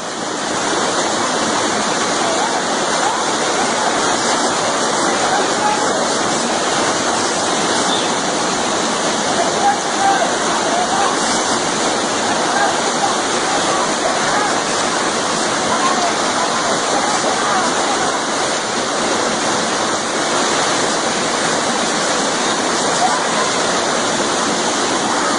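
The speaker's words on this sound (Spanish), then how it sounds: "Se la lleva el arroyo." Rushing floodwater of a street arroyo in Barranquilla, Colombia, a loud, dense, continuous roar of torrential water that holds steady throughout without pause.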